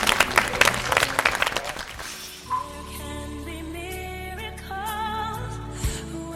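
A studio audience applauds in a loud burst of clapping that fades after a couple of seconds, giving way to music with sustained tones.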